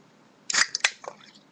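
A can of Murphy's draught stout with a widget is cracked open close up: a sharp metallic snap and quick hiss of escaping gas, followed by a fizzing trail.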